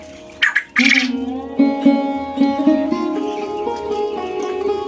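Quail squawk and chirp loudly and close up in a four-tier cage, with overlapping calls that are sharp at first and then settle into a steady chorus with no talk.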